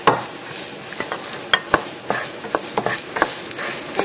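Onion being stir-fried in vegetable oil in a pan, a continuous crackling sizzle punctuated by frequent sharp clacks of a utensil scraping and tapping the pan, with no voices.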